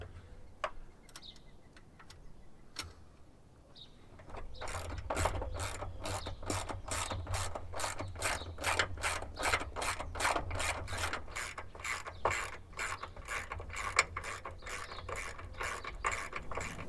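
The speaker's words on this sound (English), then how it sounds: "you can put the other washer and nut on and get it all tightened up" A ratchet tightens a nut on a Jeep Wrangler awning bracket, its rapid, even clicking close and steady after a few quieter metallic taps at the start.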